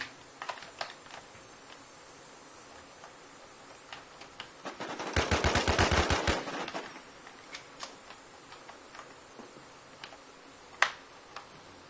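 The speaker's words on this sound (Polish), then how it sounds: "we dwóch do mnie strzelają" A loud, rapid burst of automatic gunfire in a PvP match of the video game Infestation Survivor Stories on the Clearview map. It lasts about a second and a half, mid-stretch, with faint scattered ticks before and after.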